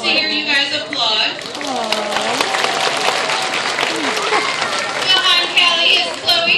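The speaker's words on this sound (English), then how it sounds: "Is 10 years old and loves to hear you guys applaud" A zoo crowd at a sea lion show applauds, dense clapping spread through a large audience with cheers and excited children's voices riding over it, loud and sustained from start to finish.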